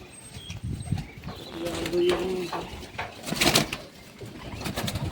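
Pigeons in a home loft coo with soft, low rolling calls, close by, mixed with a person talking and occasional rattling and knocking.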